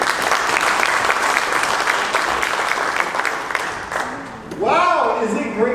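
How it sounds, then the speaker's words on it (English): An audience breaks into sustained applause to welcome a networking MC at a morning business gathering. The dense clapping fills most of the moment, then fades as a voice begins speaking over the tail end. "Please join us, and a round of applause."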